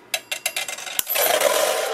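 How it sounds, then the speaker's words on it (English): Binding wire for a mini album snipped with a wire cutter, several sharp clicks and snaps close by at a steady pace, then a sustained rustling scrape of the wire rings being handled. "wire cutter and just cut in between the 7th and 8th ring"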